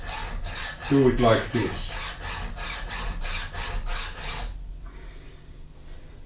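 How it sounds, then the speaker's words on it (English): Round file rasping against a paper crafting press part to remove a burr, a steady series of about ten rhythmic back-and-forth strokes, close and fairly loud, ending abruptly into quiet room tone. "And I take a round file."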